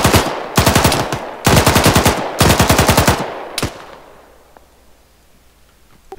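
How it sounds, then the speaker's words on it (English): Rapid full-auto bursts from a rifle in ARMA 3, glitched to fire rockets, four loud sustained bursts of closely spaced shots, then a single final shot and a fading tail into near quiet. "when you shoot your rifle, it's coming out of the rocket launcher on your back as if you're shooting rockets. Like, full auto rockets."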